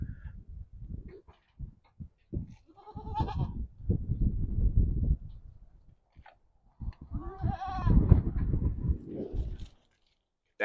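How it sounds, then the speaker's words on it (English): A goat at a petting zoo bleats in several wavering calls, one early and a longer strained cry near the end, close by with farm-animal background noise. "That goat back there on top of the log."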